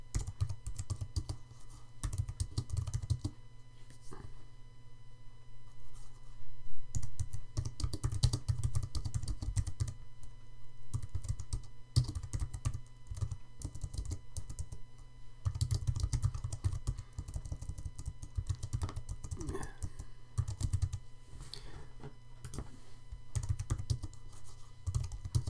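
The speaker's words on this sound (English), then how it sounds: "So we could type in the question." Someone types a quiz question on a computer keyboard: close, quiet, uneven runs of key clicks with short pauses throughout, no speech.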